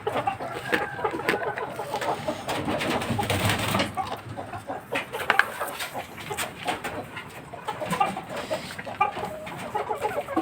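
Bangkok chickens and laying hens in a coop cluck and murmur in a dense, continuous chorus, close by, with occasional louder squawks.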